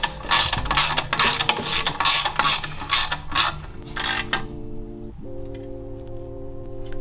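Rapid ratcheting clicks from a wrench tightening bolts on a Rascal mini bike kit frame, busy and close for about four seconds, then giving way to a steady low mechanical hum.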